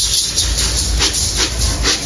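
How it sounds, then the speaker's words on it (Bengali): Mashkalai dal (black gram lentils), about 500 grams, fries in a pan in a rustic home kitchen. A loud, close hiss pulses with a rhythmic rustling, and no one speaks. "আমি এখন ডালগুলো ভেজে নেব"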